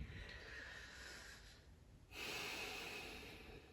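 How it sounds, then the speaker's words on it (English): Slow, deep breathing during yoga practice, heard close up as a long airy inhale, a brief dip, then a fuller exhale against a quiet room. "Breathing here, breathing, breathing."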